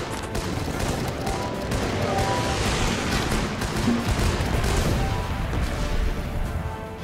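Continuous gunfire from the video game Guns Up!, a dense steady rattle of shots and impacts filling the whole stretch at even loudness.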